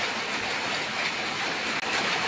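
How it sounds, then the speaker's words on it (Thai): Steady rain falls outdoors, an even dense hiss of drops on surfaces lasting the whole short stretch, fairly close, with no talking. "วันนี้นะครับฝนตกนะครับ"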